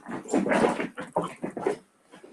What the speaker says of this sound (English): My dogs are having a fit.